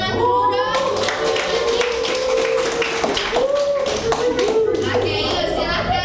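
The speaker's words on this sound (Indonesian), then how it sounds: "Udah yuk kita tepuk tangan dulu dong." Children in a classroom clap together in a group round of applause, steady and close throughout, with kids' voices chattering underneath.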